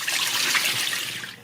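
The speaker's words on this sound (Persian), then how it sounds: "برای برنج کته ایمون عزیزان ما مقداری آب میریزیم" Water poured onto rice for Persian kateh, a steady splashing trickle close by for about a second and a half, tapering off at the end, with no voices.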